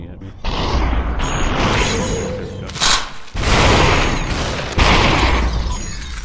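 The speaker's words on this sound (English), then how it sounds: "Are you shooting at me?" Gunfire in the Superhot VR game, loud broadband blasts and bursts filling most of the stretch with brief drops between volleys, a voice speaking over the shooting.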